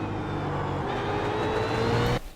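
A BMW Z4 GT3 race car in a racing video game pulls under throttle with a steady, rising engine tone at Road Atlanta, loud and alone until it cuts off abruptly near the end.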